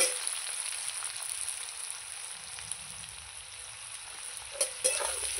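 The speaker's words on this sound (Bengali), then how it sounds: "এবার আমি লাল লাল করে আলুটাকে ভেজে নেব।" Potatoes and onions frying in a pan at home, a steady soft sizzle running throughout with brief clinks and stirring scrapes near the end.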